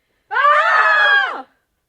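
Several girls scream together on cue during a comedy film shoot, one loud sustained burst of high, overlapping voices lasting just over a second, starting abruptly and trailing off into silence.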